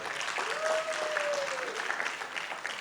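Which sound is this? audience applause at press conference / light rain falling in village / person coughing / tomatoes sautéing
audience applause at press conference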